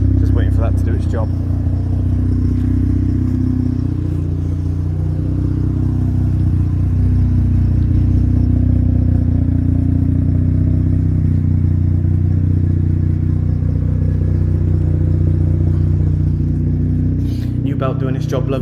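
A Mazda FC RX-7 rotary engine idles with a steady low rumble throughout, close by, no exhaust smoke, with a couple of brief clicks near the start and end.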